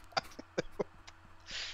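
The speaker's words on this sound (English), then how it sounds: "I was just clearing my throat." A man clears his throat in a few short rough gravelly bursts, close and fairly quiet, followed by a faint hiss.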